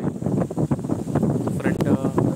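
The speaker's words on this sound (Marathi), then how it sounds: "कंटिन्यू इथे वारा आहे, कंटिन्यू दाखव वारा आहे" Wind gusts over Radhanagari dam, also called Lakshmi lake, buffeting the microphone with continuous rough rumbling and rustling, while a voice murmurs faintly underneath.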